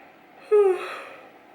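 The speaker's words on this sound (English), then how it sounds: "In fact, I feel a yawn coming on." One close yawn from a heavily pregnant woman: a sudden voiced groan that slides downward, then trails off into a long, breathy exhale.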